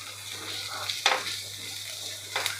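Crushed green chili, garlic and ginger sautéing in a pan give a low steady sizzle, with two brief louder stirring scrapes standing out.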